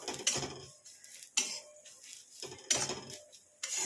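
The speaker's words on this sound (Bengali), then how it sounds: "এবার কালো জিরেটাকে একটু এইগুলোর সঙ্গে ভালো করে ভেজে নিই।" Black cumin seeds stirred and roasted in a dry pan, with a utensil scraping and clinking against the metal in three or four brief bursts separated by quiet gaps, close up and with no talking.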